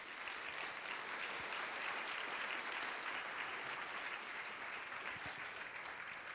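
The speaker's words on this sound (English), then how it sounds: "Mike, let's give him a big round of applause." Audience at a Social Innovation Summit applauding steadily and evenly for several seconds, a dense, continuous clapping from a large seated crowd.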